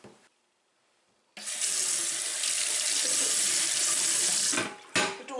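Warm tap water running into a sink to rinse a cast iron skillet, starting after a quiet pause as a steady close splashing stream that stops briefly near the end and resumes.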